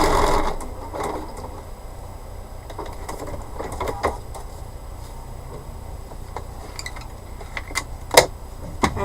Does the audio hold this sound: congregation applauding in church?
no